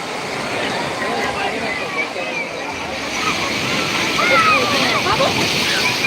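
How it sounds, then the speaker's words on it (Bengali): Sea waves wash steadily onto Digha beach, a continuous loud rushing and sloshing surf with swells building slightly stronger later, and a faint babble of people in the background. "কটালের যে পরিমাণে ঢেউ হওয়ার কথা সেরকম টাইপের ঢেউ রয়েছে"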